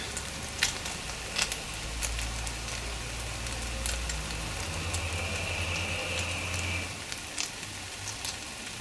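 A chilli cheese paratha fries in oil in a pan with a faint, steady sizzle and scattered soft crackling pops, and a low background hum runs underneath.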